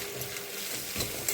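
Pumpkin greens frying with ground coriander and cumin in a pan as they are stirred, giving a steady close sizzle with a few soft scraping stirs and no talk.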